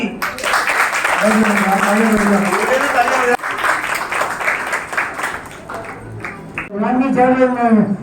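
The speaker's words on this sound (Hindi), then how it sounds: "तालियां भाई" An audience at a Jain temple moral-education camp claps in a dense burst of applause, mixed with voices and chanting-like vocal tones that rise and fall across the clip.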